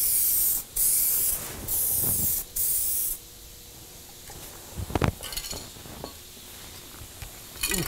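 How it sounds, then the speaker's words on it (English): A 2K aerosol spray can lays a mid-coat of paint onto a car in four loud, close hissing bursts, each about half a second to a second long, followed by quieter clinks and handling sounds. "let's get the mid-coat on"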